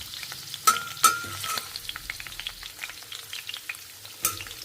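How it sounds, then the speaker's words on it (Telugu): Bitter gourd pieces fry in a pan on low heat, a soft continuous sizzle close by, broken by a few sharp clinks and scrapes of stirring. "అన్ని వైపులా చక్కగా వేగుతుండాలి సిమ్లోనే వేయించుకోవాలి మనం"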